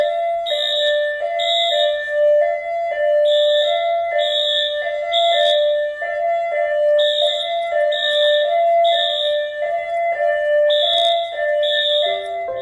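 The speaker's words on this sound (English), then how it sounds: "A school custodian is alone at the school when the alarm suddenly goes off on its own." An elementary school alarm in Albuquerque, New Mexico sounds on its own in an empty building, a loud electronic chime-like tone repeating in quick regular bursts with brief gaps between them.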